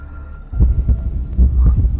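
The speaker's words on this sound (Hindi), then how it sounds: "यह मेरे दिल की धड़कन है और सहस्र रक्त कुंड की धड़कन।" A deep heartbeat sound effect thumps in a steady, low, muffled rhythm, loud and close, starting after a brief quiet lead-in.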